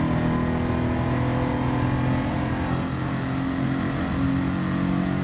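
A supercharged car in Gran Turismo 7 drives under steady engine drone, with a faint supercharger whine running beneath a constant, loud mechanical roar throughout.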